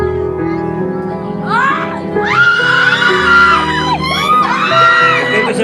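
Crowd at an outdoor singing contest in the Philippines yelling and whooping, loud and close, with rising voices swelling at about 2.5 and 4.5 seconds over a steady murmur.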